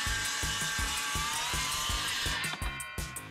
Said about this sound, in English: here's one way to use your beam saw. Cut through the top flange all at one time.